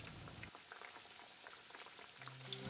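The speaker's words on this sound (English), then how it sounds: "Deep fry them for 4 minutes over medium heat." Breaded pork cutlets for katsudon deep-fry in hot oil over medium heat, giving a steady, close bubbling sizzle with scattered crackles and pops.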